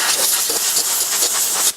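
Compressed air nozzle blowing off a lathe gearbox, a loud, close, continuous hiss with slight fluctuations that stops abruptly at the end.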